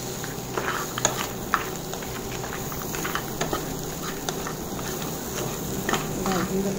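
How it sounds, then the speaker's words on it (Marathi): Crabs sauté in a pan for a Malvani-style stuffed crab dish, giving a steady close sizzle with scattered stirring scrapes and taps throughout. "चांगलं परतून घ्यायचं. खेकड्यांचा रंग बदलतो, लाल होतो."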